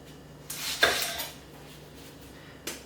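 Knife slicing the ends off an onion for julienne on a cutting board while making bread and butter pickles, heard as a couple of short, crisp cutting knocks close by, then a quieter pause and one more light chop.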